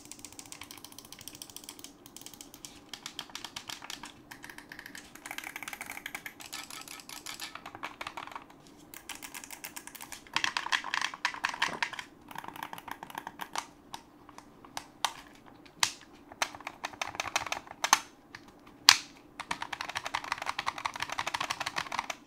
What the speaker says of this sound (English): I do enjoy the sound of the buttons quite a bit